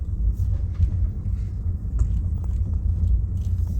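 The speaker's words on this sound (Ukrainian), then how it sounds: "мені треба в яму в'їжджати" A car driving on a badly potholed road in Dnipro, a steady low rumble of engine and tyres with a few faint bumps and knocks as the wheels drop into holes, no voices.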